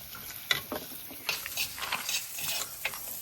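Garlic and small shallots fry in a pan, a steady close sizzle broken by scraping stirs of a spoon against the metal, with no voices.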